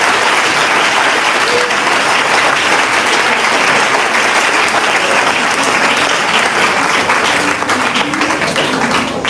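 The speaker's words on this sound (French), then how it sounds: "Acclamons le Seigneur Jésus-Christ pour ça." A church congregation applauds loudly and continuously, a dense wash of clapping hands filling the room without a break.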